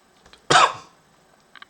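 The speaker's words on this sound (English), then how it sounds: "I don't know where this cough's come from." A single loud, harsh cough bursts out close by, followed by quiet and a couple of faint clicks.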